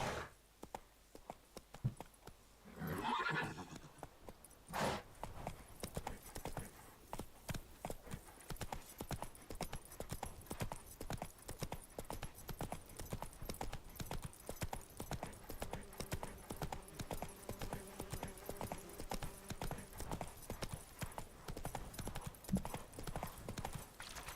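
Horse hooves clip-clopping steadily from Roach, Geralt's horse in The Witcher 3 game, a continuous rhythmic trot running throughout, with a brief louder burst early on and faint game ambience beneath.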